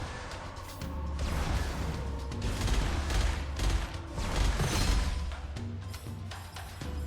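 Repeated semi-automatic gunfire from Gunfire Reborn, fired in quick tapped bursts, forms a dense, continuous stream of close shots and impacts with little pause throughout.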